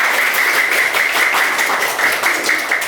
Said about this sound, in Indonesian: berikan aplaus kepada Pradipta